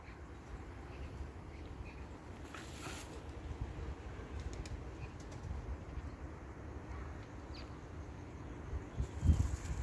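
Pigeons coo softly and shuffle about, low murmuring calls with light rustles and a brief flutter near the end, over steady outdoor background noise.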